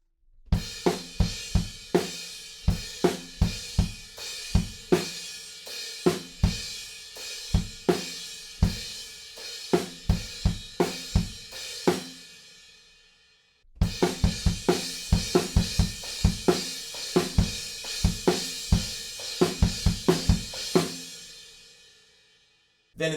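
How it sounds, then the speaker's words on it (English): A drum kit plays a steady bridge pattern, loud and close, with crash cymbal wash over punchy kick and snare hits in a regular rhythm, a brief gap midway before the pattern repeats; no talking. "we're up on the crash cymbal, and the kicks and snare drum kind of follow the riff a little bit more closely"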